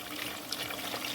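Water poured from a cup into a grinder jar to rinse out spice paste, a short soft trickling splash close by, with no talking.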